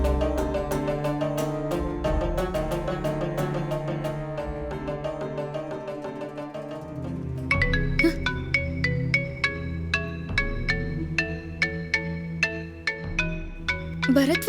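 A phone ringtone chimes through a rhythmic melodic loop for an incoming call in a Tamil TV serial drama scene, the tune shifting to sharper, brighter repeated notes halfway through, moderately loud with no talking.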